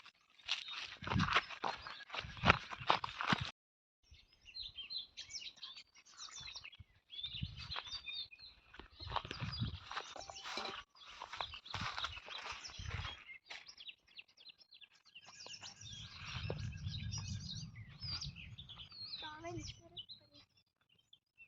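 Sparrows chirp in short, scattered bursts, fairly faint, with some rustling and a low rumble near the end.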